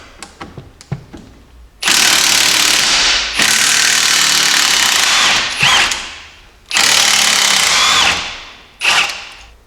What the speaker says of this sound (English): I'm just going to use my impact and see if we can get these removed